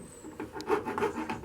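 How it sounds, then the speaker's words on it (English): Metal file rubbed back and forth over a soldered stained glass joint, four or five short rasping strokes close by, quiet and steady with no talking. "take one of these items, which is called a file, and to have a little rub at the joint"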